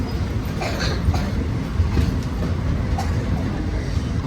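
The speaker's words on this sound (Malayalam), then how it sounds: "7 മണിക്ക് തന്നെ എടുത്തിരിക്കുകയാണ് പാലരുവി കോട്ടയത്തിൽ നിന്ന്" The Palaruvi Express pulls out of Kottayam station with a steady, loud rumble of wheels and carriages and faint rhythmic clatter, heard from on board with no one speaking.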